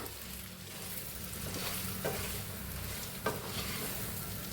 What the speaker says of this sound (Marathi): आता उरला होता मसाला ते ह्याच्यात घालून घेऊया आपण. ह्याला हलवून घेऊया.